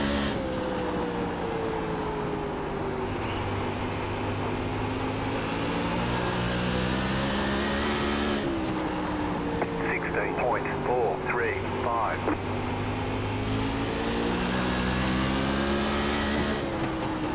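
A USAC sprint car at Irwindale Speedway in iRacing drones loudly under throttle, its engine pitch rising and falling through the laps, with a driver talking over it.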